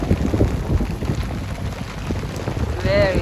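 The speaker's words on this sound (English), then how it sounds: "Very lovely rain." Steady rain patters across a wide area around a boat passing islands in the Bay of Naples, forming a dense, close hiss with a brief tonal chirp near the end.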